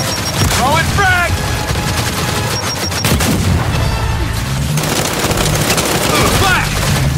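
Frag grenade blast amid dense gunfire in the video game Gears of War 5, with a continuous, loud roar of rifle fire and a heavy boom, while voices call out over the battle.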